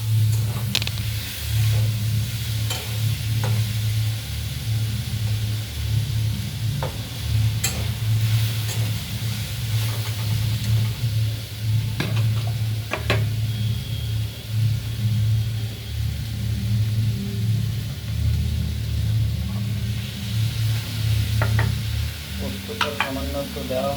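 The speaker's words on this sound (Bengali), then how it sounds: "আমরা ভাজাটা কন্টিনিউ করি।" Young jackfruit, already boiled, being stir-fried in a pan for a Bengali poppy-seed dish, with a steady sizzle under repeated scraping and stirring strokes and a low rumble throughout.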